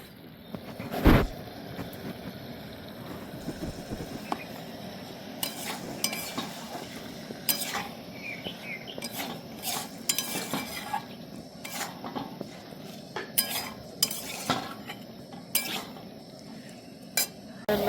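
Boiled potatoes stir-fried with egg masala in a pan in a village-style kitchen: irregular metallic scrapes and clinks of a spatula against the pan over a low sizzle, close and fairly loud.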